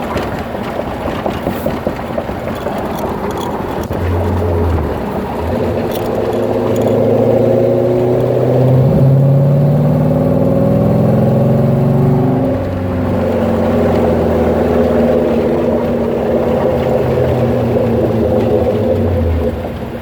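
A 1933 Ford Roadster Factory Five replica runs up through all five gears, its engine a loud, close drone that climbs and falls in pitch with each shift, with no voices over it.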